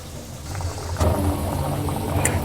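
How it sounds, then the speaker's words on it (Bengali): Bhaja pitha frying in hot oil over medium heat, a steady close bubbling sizzle with a brief sharper crackle partway through, heard alone. "একদম মিডিয়াম আঁচেতে এটাকে ভাজতে হবে।"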